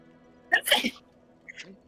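A single sneeze bursts out close by at a shrine in a Dark Souls playthrough, followed moments later by a fainter second sneeze-like sound.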